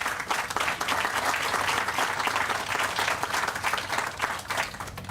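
An outdoor crowd applauds at the groundbreaking for a new University of North Florida student apartment complex, giving steady, dense clapping from many hands that holds for several seconds at a moderate distance.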